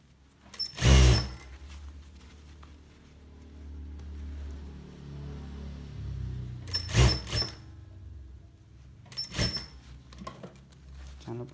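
A sewing machine stitches a zipper onto a pocket in short loud bursts separated by quieter stretches where a person talks, with the sewing close by and several distinct runs spread across the clip.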